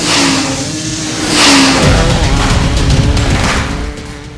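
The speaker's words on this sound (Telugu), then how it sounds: "ఇంజిన్ స్టార్ట్ చేద్దామా" A car engine revs up in a loud rising surge, then settles into a steady running drone before tapering off, with no talking.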